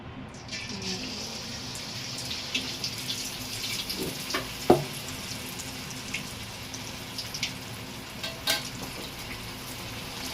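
Marinated chicken lollipops fry in hot oil in a kadai, a faint steady bubbling hiss with scattered crackles and pops, close and quiet throughout.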